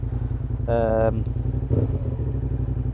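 A motorcycle engine idles with a low, throbbing rumble, and a person briefly talks over it partway through.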